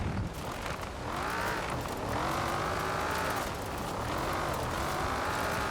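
A tuned car with softened dampers and spring rates drives off-road in the racing game Forza Horizon 4, its engine droning loud and continuous with rising and falling revs as it shifts through gears.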